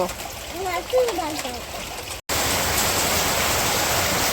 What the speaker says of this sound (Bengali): এই যে এই দিক দিয়ে হচ্ছে ভালো বৃষ্টি নামতেছে।